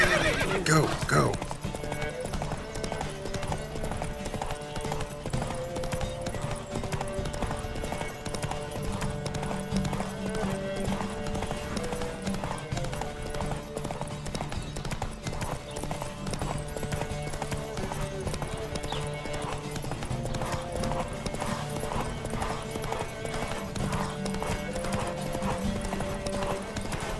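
Horses galloping in a race in the video game The Witcher 3, with steady, continuous hoofbeats and a horse's whinny near the start, under a music score throughout.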